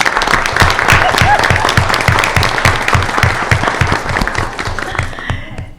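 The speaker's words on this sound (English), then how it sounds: "Let's give her another round of applause" An audience at a Granville County Public Schools board of education meeting applauds the superintendent with a dense, loud round of clapping that holds steady for several seconds before thinning out, with a voice briefly heard beneath it.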